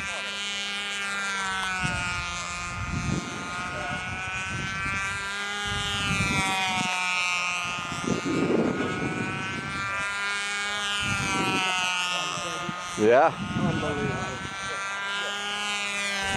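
A model airplane engine drones steadily at an outdoor flying contest on a windy day, a continuous buzzing whine with shifting pitch, while people talk nearby and wind gusts thump intermittently.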